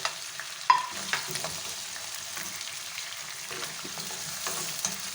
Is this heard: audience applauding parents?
no